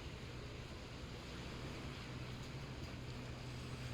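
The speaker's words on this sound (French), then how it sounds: "Ces vagues là et tout ça, mon Dieu que j'adore." Sea waves at Sète, a continuous broadband wash of surf with some wind noise, steady and moderately close, with no voices.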